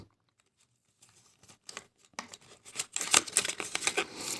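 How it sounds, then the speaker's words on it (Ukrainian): Packaged pâté being unwrapped, starting nearly silent, then crisp plastic crinkles and tearing rips that grow louder and denser toward the end. "Розпаковую. Ось такий паштет."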